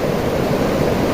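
Kedung Kayang waterfall among mountain rocks, water rushing in a steady, dense broadband roar, close and continuous with no pauses and no voices.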